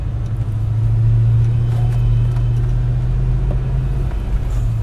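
A 1993 Ford Mustang LX 5.0 V8 runs steadily nearby, its low, even rumble and idle drone continuous throughout with no talk.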